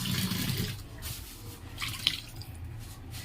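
Water is poured into a pot of cooking paneer and potatoes, making a soft splashing, trickling pour that fades and returns, with a small clink partway through and no talk.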